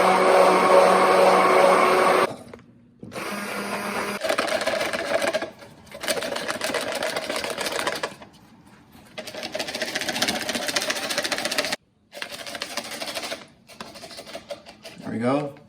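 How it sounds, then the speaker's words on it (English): A hand blender running on its high setting whips cream, a steady loud whirring motor in several bursts separated by short pauses, with brief talk between runs. "Whipped cream, I'm gonna use this hand blender on the high setting."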